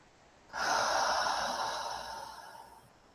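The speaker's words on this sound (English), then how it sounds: "Nice big inhale." A single deep inhale during a guided breathwork session, breathy and close, swelling quickly then slowly tapering over about two and a half seconds with no talking.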